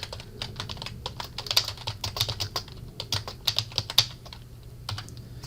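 Someone types quickly on a computer keyboard while entering an email subject line, giving close, crisp, uneven key clicks in short bursts with no talking.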